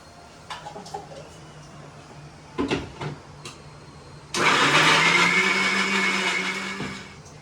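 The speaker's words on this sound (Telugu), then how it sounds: "ఇప్పుడు ఇది కూడా కొంచెం మిక్సీ పట్టేసుకుంటా" Electric mixer grinder grinding spices for a fish curry: a few small clinks and taps, then the motor roars on loudly and whirs steadily for about three seconds before stopping.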